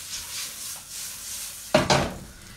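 An onion drops into a hot cooking pot with a sudden burst of sizzle and clatter about two-thirds through, following a stretch of quiet kitchen background.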